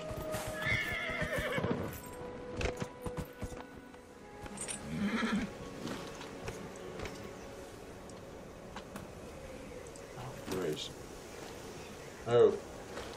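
In Dragon Age Inquisition, a horse neighs and hooves clip-clop amid busy game ambience and music, with a sharper whinny near the end, all under a player's talk.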